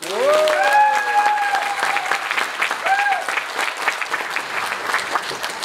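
A crowd of party members claps warmly at the opening of a Democratic Party launch ceremony in Chungbuk, sustained applause that carries throughout while music tones and a few voices rise over it early on.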